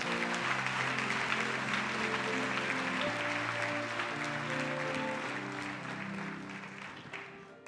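Congregation at a Sunday church service applauding, a steady dense wash of clapping with music-like sustained tones beneath, loud throughout and slowly easing toward the end.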